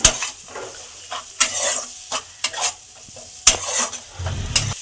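Fried vegetables being stirred into a cooked-down tomato base for vegetarian dal, with a spoon scraping the pan in repeated strokes over a steady close sizzle. No voices are heard.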